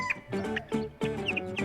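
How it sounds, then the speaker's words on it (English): A hen clucks several times in a quick, uneven series, close and clear, with short sharp calls and no other sounds. "Hen."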